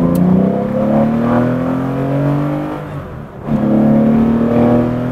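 A Porsche 911 ST revs and accelerates hard, its engine note climbing in pitch, easing briefly around a gear change, then pulling strongly again; loud and close throughout, with no talk.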